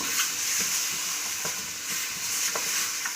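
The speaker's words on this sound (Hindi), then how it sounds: "चिकन का कलर जो है ना वो चेंज करूंगी, थोड़ा सा ना इसे सोते करूँगी" Chicken pieces sauté in a pan for hot and sour soup, with a continuous bright sizzle broken by regular spatula stirring strokes, close and steady throughout.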